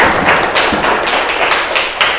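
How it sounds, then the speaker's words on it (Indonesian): Audience clapping hands at an ice-breaking session, a quick run of sharp claps heard close in a steady rhythm of about eight beats, with no talking over it. "Tepuk tangan dulu buat kita semuanya."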